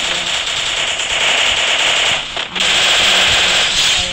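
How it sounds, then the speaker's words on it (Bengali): Gunfire in the Free Fire video game comes as a dense, continuous crackle of rapid shots, loud throughout with one brief dip midway and no speech. "এক শটে শেষ, হেডশট।"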